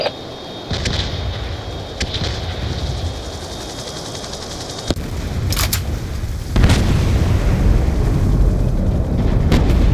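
An airstrike explodes against a ship in Call of Duty: Black Ops II, a deep rumbling boom swelling up loudly partway through, with several sharp cracks and ongoing combat noise before it.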